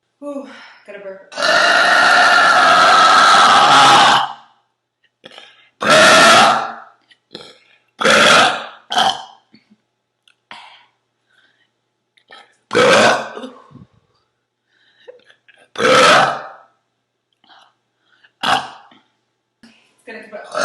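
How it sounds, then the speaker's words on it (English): A woman lets out a series of loud, close burps: one long drawn-out belch at the start, then about eight shorter croaking burps spaced by pauses, with no talk between them. "Ooh, gotta burp."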